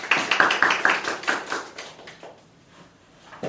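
Audience clapping closes a forum on responding to an aging society in Incheon, with quick, crisp hand claps that are loud at first, then thin out and fade into near silence, ending with a few late claps.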